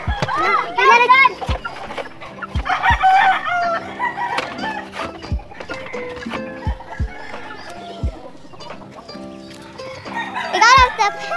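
Grown chickens in a farm pen cluck and squawk in scattered bursts close by, with children chattering and shouting over them and sharp knocks now and then.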